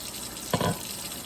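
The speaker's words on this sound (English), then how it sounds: "So very gently pour that hot liquid down the drain." Hot water from boiled eggs poured gently down a kitchen sink drain, one short splashing gush in the middle of a quiet moment, with no talking.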